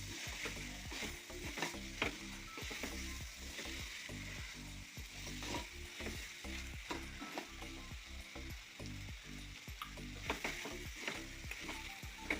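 Chicken thoran with onions and masala is stirred in a hot pan: continuous frying sizzle under a quick, regular run of scraping, clattering spoon strokes against the metal, close up and with no voices.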